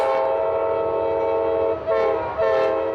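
The Amtrak 98 Silver Meteor passes at Folkston, Georgia, its loud, sustained horn blaring over the rumble of rolling cars, with a couple of brief breaks in the horn blast.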